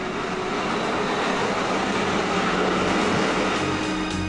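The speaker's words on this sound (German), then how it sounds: "Die S-Bahn ist wieder auf dem Weg nach Spandau." A Berlin S-Bahn train of series 481 runs on its way toward Spandau, giving a steady, dense rumble and rushing wheel noise that stays loud and constant throughout, with no voices.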